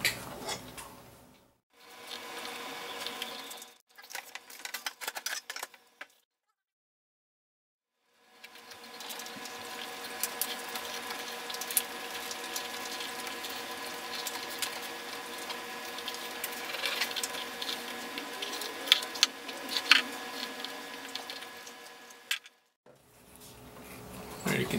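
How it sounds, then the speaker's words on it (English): A groove for stitching being cut around the edge of a leather phone case, giving a steady, close scraping and ticking texture that runs for long stretches between short silent pauses. "I'm going to go ahead and cut a groove for stitching around the edge now."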